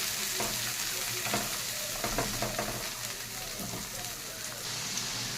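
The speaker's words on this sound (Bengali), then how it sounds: "ভালো করে মশলাটাকে কষিয়ে নিতে হবে" Spice paste of chilli and cumin powder with salt is sautéed in a pan for a fish curry, a steady loud sizzle with intermittent stirring scrapes and faint talk beneath.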